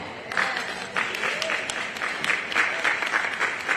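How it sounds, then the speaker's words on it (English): Applause from the audience at a civil rights roundtable during a festival, steady moderate clapping with distinct louder surges, heard alone at mid distance. "Round of applause now."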